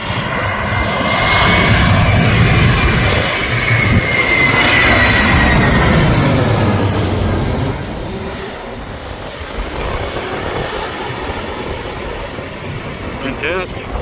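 A fixed-wing airliner roars loudly overhead near LAX airport, a broad jet rumble swelling for several seconds then easing as it passes and recedes, with faint voices and outdoor background underneath.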